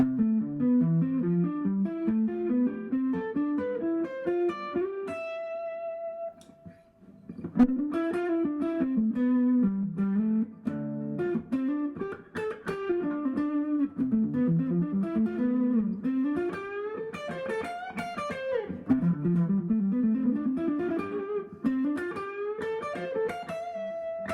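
Electric guitar plays a steady run of sixths climbing and descending a scale, mildly overdriven, with a brief pause partway.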